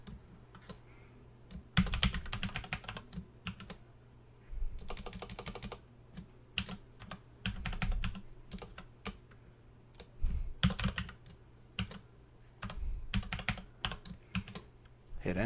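A password is typed on a computer keyboard in bursts of quick, close key clicks separated by short pauses, with a low background hum and no talking.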